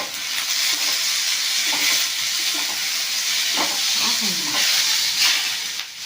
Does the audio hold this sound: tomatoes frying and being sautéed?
yes